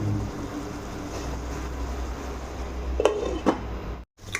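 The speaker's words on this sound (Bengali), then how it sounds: "তো টমেটোটাকে চলো কুঁদরি আর আলুর সঙ্গে মিক্স করে দেবো।" A utensil stirs kundri, potato and tomato in a pan, with a steady low cooking hiss and a few sharp scraping clinks of metal near the end, then a brief silence.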